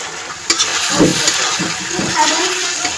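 Spice-rinse water hits the masala frying for Bengali duck curry, setting off a loud, continuous close sizzle with faint stirring knocks.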